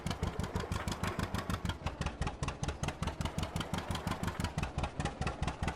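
An engine is started and left idling, thumping in a fast, steady pulse that sounds like a motorcycle or a medium engine. The beat is close and even and runs throughout with no talking.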